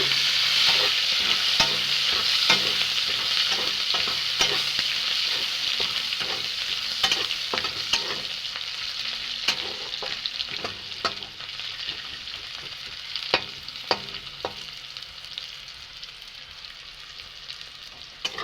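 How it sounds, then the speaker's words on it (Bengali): Chopped onions fry in a pan for a country chicken and potato curry, a steady loud sizzle running throughout with repeated scraping clicks of a spoon stirring, no voices. "ভালোভাবে আমি লাল লাল করে পেঁয়াজ দেখো ভাজা নেবো"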